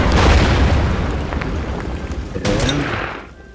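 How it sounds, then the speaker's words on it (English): Artillery bombardment in the WW2 strategy game Order of Battle, set around Rostov: a loud deep boom that rolls and decays over a few seconds, followed by a second thud and a fading rumble. "Now we can bombard it."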